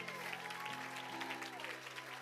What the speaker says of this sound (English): Come on, somebody clap like that's cool.